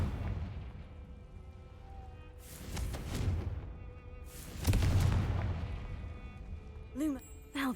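The Confringo blasting spell goes off in Hogwarts Legacy as a pair of booming explosions a couple of seconds apart, the second one louder, over a low ambient rumble, with a short chime-like effect at the end.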